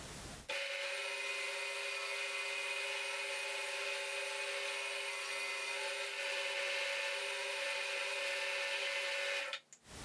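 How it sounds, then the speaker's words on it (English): A sander shapes a small wooden cylinder from scrap wood into a smooth surface, heard as a steady, close whir with a faint rasping edge that starts abruptly and cuts out after about nine seconds. "Now I will turn on the sander again and finish making the cylinder."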